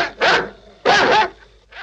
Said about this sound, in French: J'en ai ras-le-bol de ce chien